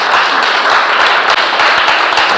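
Steady, loud applause from a congregation during a church service, dense and continuous with individual claps standing out at an even pace.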